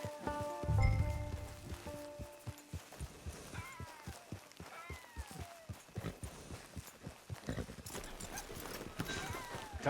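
Horse hooves clip-clop steadily in the Red Dead Redemption 2 video game as a mount walks along, the even beats close and continuous over soft ambient sound and brief musical tones.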